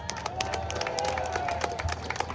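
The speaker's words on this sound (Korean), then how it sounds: "여러분 큰 박수 부탁드립니다." Clapping and cheering from a crowd at an outdoor Democratic Party election rally in Yeonggwang, a steady patter of applause with a voice over a loudspeaker mixed in throughout.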